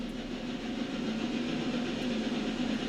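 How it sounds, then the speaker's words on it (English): Lumber train in the video game Railroader rolling along steadily, a continuous low rumble with a droning tone and a faint track texture, close and unbroken throughout. "because this is actually the Whittier lumber train."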